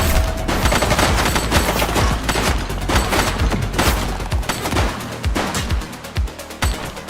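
Dense, loud gunfire in the video game The Precinct: rapid overlapping shots rattle continuously for several seconds, like a close-range firefight.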